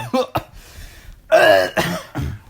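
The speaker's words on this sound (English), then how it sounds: "I'm coughing because of the water" A few harsh, throaty coughs in quick bursts, close and fairly loud, with short pauses between them.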